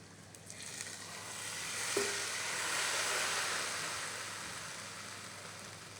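Steady broadband sizzling as hot tempering oil is poured onto Punjabi kadhi curry, rising slightly and then holding at a constant hiss with no talking.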